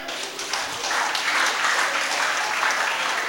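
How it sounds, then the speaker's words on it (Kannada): An audience at a residential special school function in Karkala claps for a student honoured for representing the state nationally, a steady, dense wash of applause lasting a few seconds. "ಚಪ್ಪಾಳೆ"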